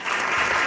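A short, dense burst of recorded applause from a broadcast clap button, played loud and alone for under a second.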